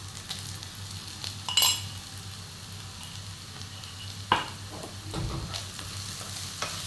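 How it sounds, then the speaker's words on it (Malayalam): Onions with crushed ginger and garlic sautéing in a pan for chicken kurma, a soft continuous sizzle with occasional spoon scrapes and clinks, close but fairly quiet, no voices. "ഇനി നന്നായി വഴറ്റിയെടുക്കണം."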